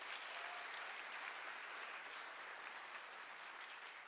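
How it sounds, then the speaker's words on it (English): Theatre audience applauding at a choir performance, a steady dense wash of clapping that holds evenly and fairly loud for the whole stretch, with no voices over it. "Could we also get an applause?"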